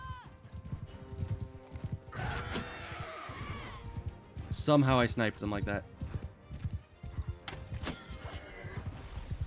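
Hooves clip-clop in the medieval battle game Mount and Blade II: Bannerlord, with a horse whinny partway through and a player talking over the game sounds.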